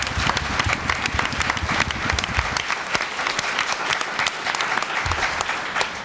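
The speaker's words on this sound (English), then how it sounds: "So I'd like you all to give them a round of applause." An auditorium audience at a library dedication for artists and architects claps loudly and steadily, a dense wash of applause with no talking over it.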